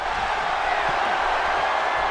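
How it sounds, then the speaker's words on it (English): A wrestling arena crowd roars steadily in a dense, continuous wash of cheering and noise throughout, loud and sustained with no clear pauses. "My goodness, Randy, the crowd is going crazy."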